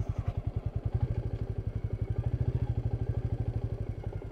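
A Royal Enfield Meteor 350 motorcycle idles down a steep off-road track in first gear, its single-cylinder engine thumping in a quick, even, low beat that stays close and moderately loud throughout.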